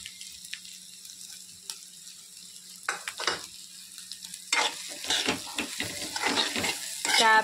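Chicken pieces frying in oil for egg chicken fried rice, a soft sizzle broken by scraping stirs of a spoon in the pan, growing louder and busier toward the end, with no talk.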